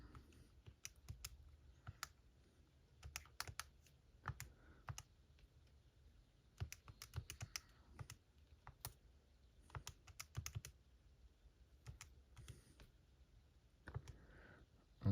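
Faint, close keyboard typing in irregular bursts of light clicks with short pauses, no speech.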